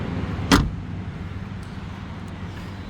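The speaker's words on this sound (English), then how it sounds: "when I shut the door," A car door slams shut once, a short sharp thud near the start heard from inside a car set up for sleeping, followed by quiet low cabin rumble.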